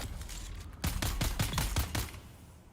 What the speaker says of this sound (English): Got so many people shooting at me right now.